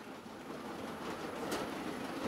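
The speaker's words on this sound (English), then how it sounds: "so I can speed up that loco" A model train locomotive speeds up under Lenz DCC throttle control, giving a faint, steady rolling hum and rattle that grows slightly louder over a couple of seconds, with no talking.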